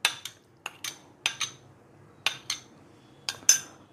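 A metal utensil scrapes and taps sautéed onion from a pan into a steel mixer jar, about a dozen sharp clinks and knocks in irregular bursts, close and crisp with quiet gaps between them.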